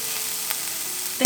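Ground pork stir-fried in a pot for a rice bowl with butter-soy sauce, sizzling steadily and close up, then ending in a brief sharp clatter of stirring.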